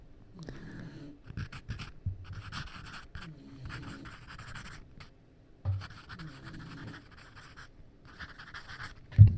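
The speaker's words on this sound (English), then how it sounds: "ASMR fucking pencil writing" A pencil scratches across paper in close, dry strokes, coming in bursts of writing separated by short pauses, with a soft tap or two at the end.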